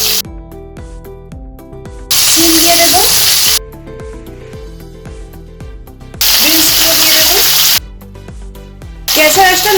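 Potato, pointed gourd and carrot hitting hot oil in a pan, setting off loud, close sizzling bursts that come in waves, with stirring in between and background music underneath.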